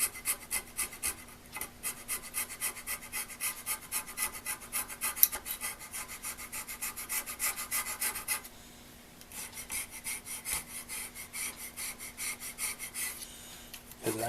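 A hand file rasps against a North Bros Yankee No. 990 drill press vise, a close, rhythmic back-and-forth stroke repeated steadily, with a brief pause midway before the filing resumes.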